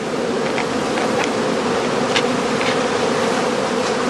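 Honey bees swarm around straw skep hives, a dense, steady buzzing hum that fills the scene, with individual bees flying close past now and then.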